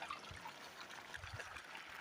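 Water runs out of a solar-powered pump in a steady, soft trickling flow, fairly faint and continuous, with no talk.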